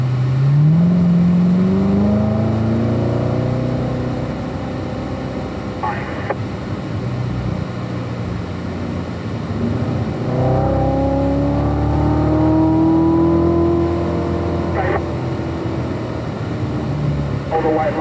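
A car is driven around a track through a turn during a braking and car-control session, its engine note rising and falling as it revs, heard up close beneath an instructor's voice.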